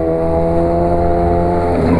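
A Honda CB 1000R motorcycle with an aftermarket exhaust revs loudly and close by, its engine note rising steadily through a sustained, harmonic-rich roar.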